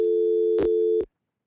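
A steady electronic call tone from an IP desk phone sounds for about a second, broken by two soft clicks, then cuts off into silence.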